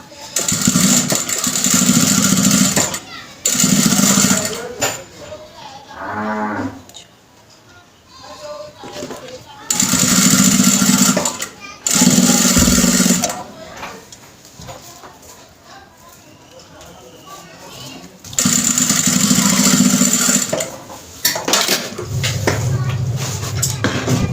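A sewing machine runs along the very edge of kapron fabric in bursts of steady mechanical whirring, separated by pauses where someone talks.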